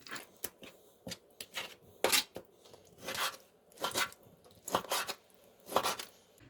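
A knife chops beef heart into pieces with a string of sharp, irregular cuts and taps against a board, close and quiet, with brief pauses between strokes.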